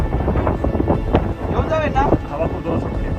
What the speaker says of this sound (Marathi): हवा खूप जोरात सुटते.